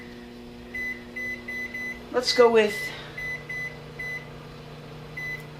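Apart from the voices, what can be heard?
microwave oven keypad beeps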